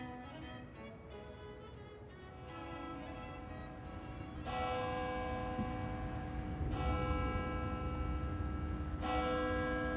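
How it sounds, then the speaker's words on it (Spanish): A medieval church bell at the church in Barmen tolls repeatedly with rich, ringing overtones, strikes overlapping as the sound grows fuller and louder, with no voices. "La campana que suena en la iglesia de Barmen se remonta a la Edad Media"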